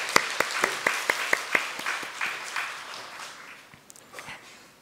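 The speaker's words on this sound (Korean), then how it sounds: "우리 한 번 더 하나님께 박수로 영광을 올려드리겠습니다." A church congregation at a Sunday worship service claps in unison, sharp regular beats close together at first, then loosening into scattered, fading claps with a few late stragglers.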